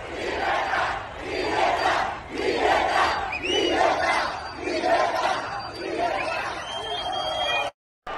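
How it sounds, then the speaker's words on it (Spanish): Large outdoor crowd in Madrid booing and cheering the Argentine president on a balcony, with rhythmic swelling chants and shouts in repeated waves, loud and dense, ending in a brief cut to silence. "Javier Milei en el balcón de la Real Casa de Correos, abucheado y aplaudido"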